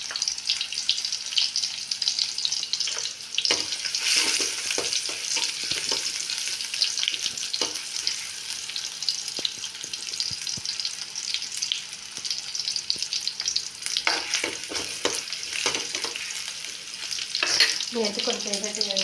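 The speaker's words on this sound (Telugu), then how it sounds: "ఇప్పుడైతే నేను పప్పు అయితే తాలింపు పెట్టేసుకుంటున్నాను. ముందైతే ఉల్లిపాయ అయితే వేసుకుంటున్నాను" Chopped onion sizzles in hot oil for a dal tempering, a steady close-up crackle with stirring scrapes and bursts of spatter that swell and fade over twenty seconds, no voices.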